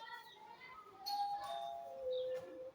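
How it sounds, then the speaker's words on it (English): A doorbell chimes several times indoors, giving a few clear ding-dong tones at moderate volume against a quiet background. "There's someone who is ringing the bell"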